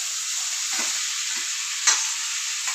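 Garlic, tomato and onion sauté in a pan with a steady, close sizzle, broken by a few soft stirring scrapes and one brief clink near the end.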